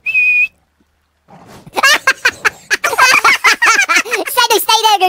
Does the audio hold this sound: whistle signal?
yes